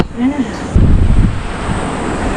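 Strong wind gusts buffet the microphone with a low rumble at Nozaki Lighthouse on the Chiba coast, Japan, and ocean waves wash faintly in the background.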